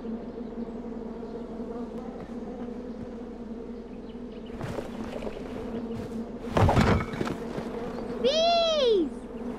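A swarm of bees buzzes steadily in a King's Quest video game, with a low droning hum throughout, a burst of louder noise midway and a short swooping vocal-like sound near the end.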